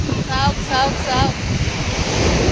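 Ocean surf and wind at Chennai beach in the evening: a steady, loud broadband roar of breaking waves with wind buffeting the microphone, plus a few brief faint high chirping tones early on.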